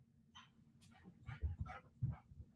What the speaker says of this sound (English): Do y'all hear this dog going back and forth?